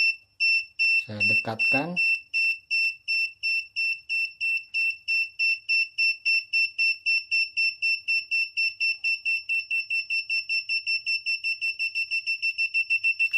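An ATtiny85 Digispark garage parking alarm buzzer beeps insistently, a high electronic tone pulsing steadily and speeding up toward the end, with a brief spoken phrase near the start.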